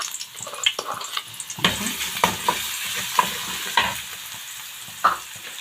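Garlic fries in hot oil for yellow lentil soup, a steady close sizzle broken by repeated scraping and clinking strokes of a spoon stirring in the pan, with no talking.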